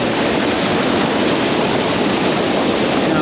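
Anayadikuthu waterfall near Thodupuzha, Kerala, roars as a loud, unbroken rush of water, dense and constant from start to end, with no voices.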